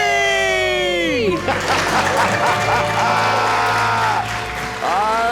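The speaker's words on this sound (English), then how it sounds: "And the crowd goes wild." A crowd cheers and applauds after a couple's debt-free scream, a burst of clapping and whooping that follows the tail of the loud drawn-out shout and stays close and full for several seconds.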